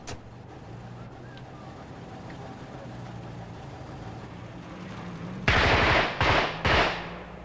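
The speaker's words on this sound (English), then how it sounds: "This is the regular Saturday afternoon shooting incident in Strabane." A burst of loud gunfire breaks out after a stretch of quiet outdoor ambience in Strabane, Northern Ireland, in 1974, several sharp shots in quick succession, close and harsh.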